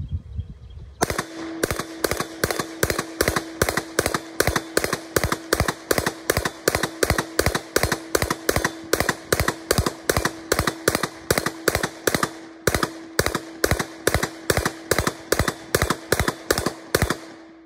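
An MP5 9mm submachine gun fires from a 40-round AC Unity magazine in long, rapid automatic strings of evenly spaced, loud close shots, with one brief break partway through and no talk.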